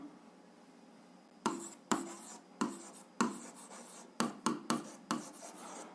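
Pen strokes scratch across paper in short, separate bursts as a math exercise is written out, close and quiet, with no talking.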